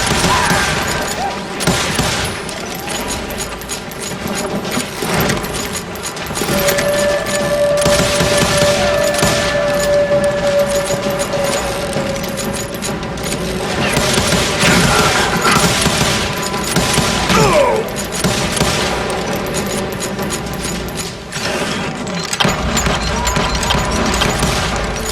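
Dense, loud gunfire rolls almost without pause from a Wild West shootout in the video game Call of Juarez: Gunslinger, with overlapping shots and crashing impacts throughout.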